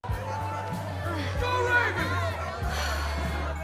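Party guests fill a room with continuous overlapping chatter and murmuring voices, a busy crowd babble that stays fairly close and steady.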